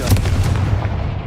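A Confringo fire spell blasts in the video game Hogwarts Legacy, a single loud booming burst that rolls on for about a second.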